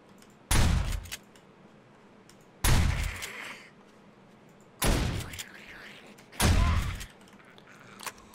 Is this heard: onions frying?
no